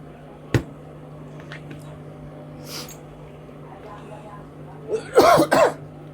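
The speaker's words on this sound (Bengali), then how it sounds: "কাশি হচ্ছে" A person with a cold coughs and clears their throat while sewing a shirt pocket, one sharp cough early, faint throat sounds in the middle, then a close burst of harsh coughs near the end over a steady low hum.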